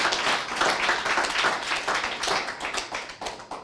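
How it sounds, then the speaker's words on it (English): Audience applause at an awards ceremony, a dense burst of many hands clapping that holds steady and loud, then thins into scattered claps toward the end. "Can we give them a round of applause again?"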